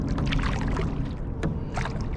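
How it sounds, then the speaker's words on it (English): A canoe paddled with a kayak paddle on the Tennessee River, with close, steady swishes and soft splashes of the blade in the water and a faint trickle of drips, with no talking. "All right, I'm gonna paddle a little more."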